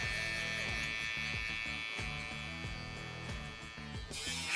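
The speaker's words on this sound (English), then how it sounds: "Trimmer." Electric hair trimmer buzzing steadily and close during a mid-length straight-hair taper fade haircut, a continuous motor hum with brief dips as the clippers move against the head.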